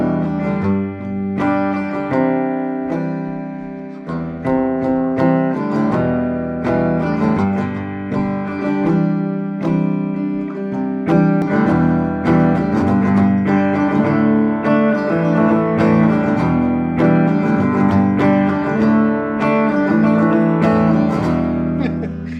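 An electric resonator guitar with a piezo pickup rings out in continuous chords and picked notes over about twenty seconds, full and sustained with a steady rhythmic strum.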